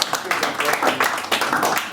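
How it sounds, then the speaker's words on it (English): Dense audience applause at a political campaign launch, many hands clapping steadily and close together for about two seconds at moderate loudness. "I think that deserves another round of applause."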